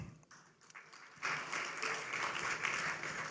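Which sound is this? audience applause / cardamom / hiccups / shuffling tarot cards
audience applause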